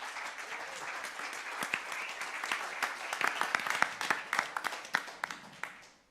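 An audience at a civil society summit on intellectual property applauds steadily, the clapping filling a hall at moderate distance and growing into sharper individual claps before it fades out at the end.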